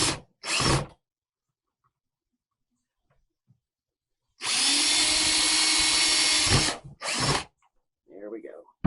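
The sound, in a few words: power drill drilling holes in a plastic bucket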